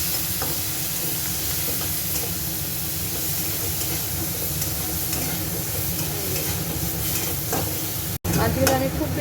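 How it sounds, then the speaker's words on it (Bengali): Prawns frying in hot oil with turmeric and salt, giving a steady, close sizzle and hiss throughout with occasional stirring scrapes; a brief cut near the end, then the frying returns slightly louder. "এই তেলের মধ্যে আমি সামান্য হলুদ, সামান্য নুন দিলাম, দিয়ে চিংড়ি মাছগুলো আমি ভেজে নেব।"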